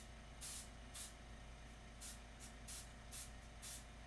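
A Gundam marker fed through an airbrush sprays paint mist in a string of short, soft hissing bursts over a steady low background hum, close by, with no talking.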